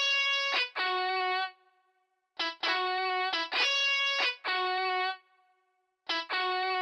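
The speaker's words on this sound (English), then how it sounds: "I've grabbed a lead guitar preset from Analog Labs and I played in a simple progression here" Sustained synth lead chords from a lead guitar preset in Analog Lab, with a bright, buzzy tone, ring out in short phrases separated by pauses, moving through a simple chord progression.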